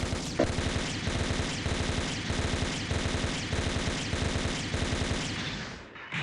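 Rapid bursts of gunfire from a Delta Gundam in the video game SD Gundam Online, loud and close, firing in repeated rhythmic volleys with no pauses before the sound fades at the end.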